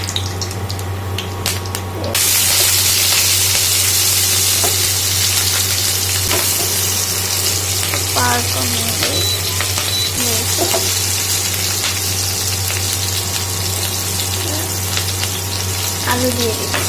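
Potatoes for aloo bhaji fry in a pan with a loud, steady sizzle over a constant low hum, the hiss swelling sharply after a couple of seconds, with occasional scraping stirs.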